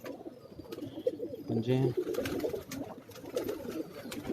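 Pigeon cooing on a Karachi rooftop loft, a few soft throaty coos rising in the middle among scattered bird chirps, with someone talking over and around them.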